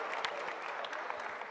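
An audience at a disaster-management ministry event applauds, giving a steady, dense patter of clapping throughout the brief moment.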